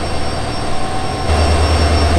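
An EMD WDP diesel locomotive heading an overnight train bound for Mangalore rumbles loud and close with a deep throbbing engine note that grows stronger partway through.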